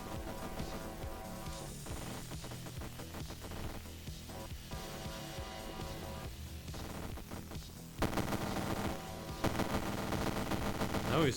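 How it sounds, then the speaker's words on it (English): A rail Gatling gun fires in the video game Neuro Voider, a dense, continuous stream of rapid shots that gets louder and harsher in the final few seconds, with no talking. "The reason I'm not shooting this rail Gatling faster"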